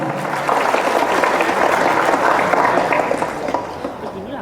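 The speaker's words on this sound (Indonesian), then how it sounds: "Berikan tepukan yang meriah." An audience applauds at a pharmacist oath-taking ceremony in Padang, a dense, sustained clapping from a large crowd that fades slightly toward the end.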